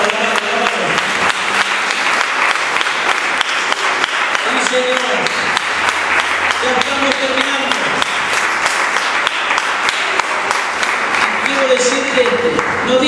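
A church congregation applauds the Lord, a loud sustained wash of many hands clapping over voices and musical tones, continuing for more than ten seconds.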